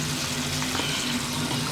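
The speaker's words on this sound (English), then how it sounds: "I'm going to put some fresh water in here." Fresh tap water runs steadily into a small beauty blender washing machine, a constant close hiss and splash with a faint low hum beneath.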